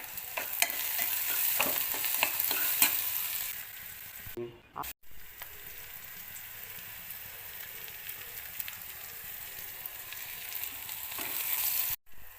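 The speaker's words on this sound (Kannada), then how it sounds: "ಈರುಳ್ಳಿ ಬೇಗ ಫ್ರೈ ಆಗಬೇಕಂದ್ರೆ ಸ್ವಲ್ಪ ಉಪ್ಪಿನ ಪುಡಿ ಹಾಕೊಳ್ಳೋಣ, ಬೇಗ ಫ್ರೈ ಆಗುತ್ತೆ" Onions sprinkled with salt fry in a pan for mutton liver gravy, giving a dense, continuous sizzle with repeated stirring scrapes and a couple of brief dropouts.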